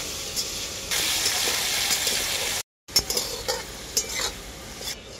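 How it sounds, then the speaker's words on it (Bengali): Cut potatoes with salt fry in a pan with steady close sizzling, broken by a short pause, then stirring scrapes and light clinks of a utensil against the pan. "আলুটাকে আমি খুব ভালো করে ভেজে নেব"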